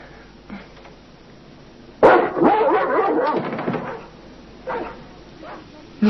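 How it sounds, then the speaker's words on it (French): A dog that hates delivery men barks in loud, sharp bursts indoors, with a run of excited yips and whimpers in the middle and scattered short barks before and after. "C'est quelle race comme chien, il est sympa."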